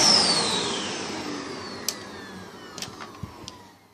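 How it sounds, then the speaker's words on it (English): Dyson CY22 Cinetic Big Ball vacuum cleaner motor whirring steadily and close, winding down as it is switched off, with a few small clicks near the end and no talking. "it's actually quite a nice, quiet vacuum cleaner."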